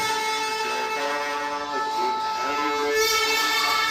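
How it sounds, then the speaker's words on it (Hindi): Conch shell blast played from a touch-activated Bhagavad Gita device for Lord Krishna, a sustained steady horn-like tone with layered harmonics holding at even loudness throughout. "भगवान कृष्ण जी के शंख की आवाज़ आएगी"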